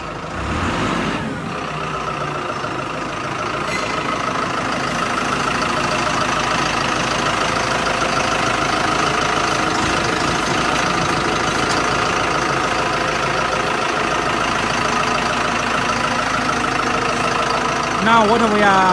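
A QT4-20 fully automatic concrete block machine runs with a steady, loud mechanical drone and rumble, continuous and close, with a faint voice in the background.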